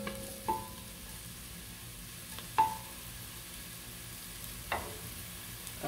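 Onions sautéing in a heating pan for vegan spinach rice give a faint, steady low sizzle, close and quiet, broken by a few soft clicks of a utensil against the pan.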